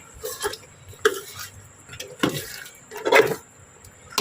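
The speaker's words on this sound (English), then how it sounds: "I'm going to stir that to make sure everything is incorporated." A spoon stirs egusi soup in a cooking pot, with irregular scraping, knocking strokes and wet sloshing every second or so, fairly close.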